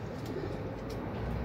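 Young pigeon squabs in a loft give soft, low cooing murmurs, a steady close hum of bird sounds with no talk.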